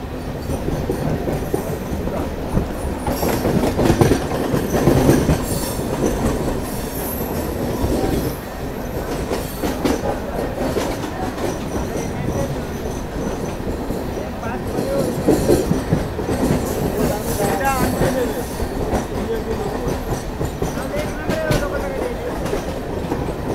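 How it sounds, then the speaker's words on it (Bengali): The Dibrugarh–Kanyakumari Vivek Express rolls past close by with a steady, heavy rumble, rhythmic wheel clatter and occasional squeals. Faint voices can be heard underneath. "আর এই যে ডিব্রুগড় কন্যাকুমারী বিবেক বিবেক এক্সপ্রেস।"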